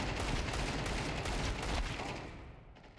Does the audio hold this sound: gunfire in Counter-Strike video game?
yes